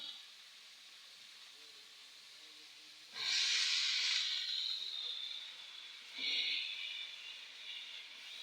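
Washed, chopped vegetables hit hot oil in a pan of fried shrimp and tempering spices for a mixed-vegetable chorchori, giving two sudden loud hissing sizzles a few seconds apart that each fade slowly.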